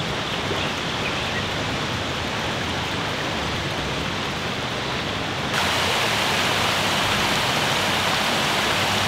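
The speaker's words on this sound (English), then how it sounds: "Mantenga waterfalls inside this nature reserve." Mantenga waterfalls in a Swaziland nature reserve pour with a steady, close roaring rush of water that never lets up and grows noticeably louder partway through.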